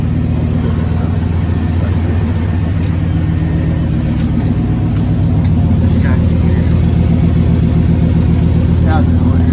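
Chevy 350 V8 in an old-body-style Chevy truck with Flowmaster Super 44 mufflers and no catalytic converters, idling with a loud, steady, deep rumbling burble close to the listener.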